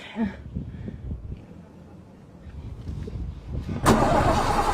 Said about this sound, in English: What is that sound? Is that your engine?